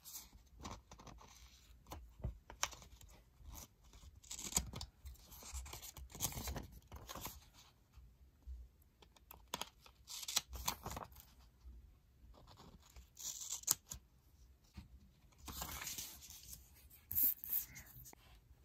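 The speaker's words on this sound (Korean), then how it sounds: "필요없는 테이프는 잘라서 버릴게요." Tape being snipped off and handled while building a paper origami Mecha Bo minicar from colored paper, with scattered short scratchy cuts, rustles and paper crinkles at close range, quiet and intermittent with no talking.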